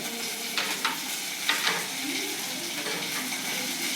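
Five crushed garlic cloves frying in a pan for Thoothukudi-style arai keerai kadaiyal, a quiet even sizzle with a couple of short stirring scrapes, no speech.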